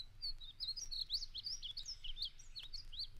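A painted bunting sings a rapid, high warbling song, a continuous run of bright tumbling notes lasting about three seconds, clear and alone against a quiet background.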